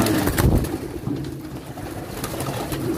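Pigeons cooing softly at close range while being fed, a few low coos and rustles with quiet background noise, no talk.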